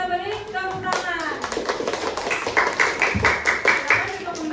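A classroom of children claps for their classmates in quick, fairly rhythmic bursts of sharp hand claps, mixed with voices talking over them.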